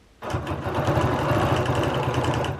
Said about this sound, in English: So I am going to quilt now a quarter circle first.